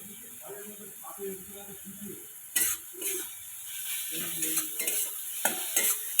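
Cumin, whole garam masala, onion and tomato fry in hot oil and are stirred in a pan, with soft sizzling, scraping bursts of stirring and a faint voice in the background.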